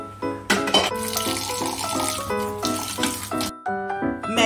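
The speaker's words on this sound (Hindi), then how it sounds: "अब इसको हम स्ट्रेन कर लेते हैं और इसके ऊपर हम ठंडा पानी डाल देते हैं" Cold water pours from a tap over strained Maggi noodles in a kitchen, a steady close splashing flow with clattering and shifting tones that stops briefly near the end before resuming.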